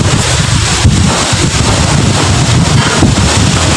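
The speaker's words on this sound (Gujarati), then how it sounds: "ફૂલ પવન ચાલુ થઈ ગયો" Strong wind buffets the microphone outdoors at a farm temple during dark, rainy weather, a loud steady roar with rumbling gusts lasting the whole stretch and no voices.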